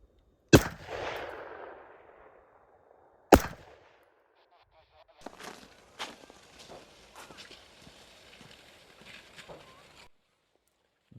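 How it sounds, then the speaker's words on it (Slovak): Two sharp, isolated reports from a .223 Remington rifle fired about 1250 metres away, each a brief crack trailing into a soft rumble, followed by quieter scattered thumps and rustling near the listener. "ideme počúvať, že ako znie puška 223 Remington. Na kilometr a 250 metrov."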